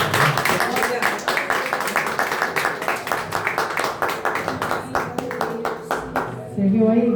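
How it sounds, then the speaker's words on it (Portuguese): A church congregation claps in rhythm, a steady run of fairly quick claps that continues for several seconds, with voices mixed in underneath and a brief break near the end. "As palmas ao Senhor."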